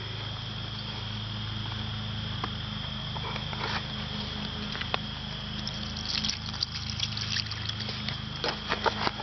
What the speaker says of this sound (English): I'm going to go ahead and pour some lighter fluid on it and light it up